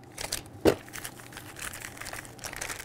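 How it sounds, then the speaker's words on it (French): A box of trailer-rack hardware for a Can-Am Spyder being opened and unpacked, with close crinkling packaging, a sharp crunch and rustling, no speech over it. "On va ouvrir notre boîte. On va déballer la quincaillerie."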